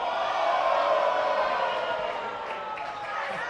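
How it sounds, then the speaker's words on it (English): A wrestling arena crowd at a women's event chants and roars in a steady, dense wash of voices, loud and continuous throughout. "you hear the crowd here with those welcome back chants"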